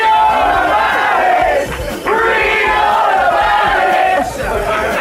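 A large crowd roars together in a loud, sustained shout, voices rising and swelling with a brief dip before surging again.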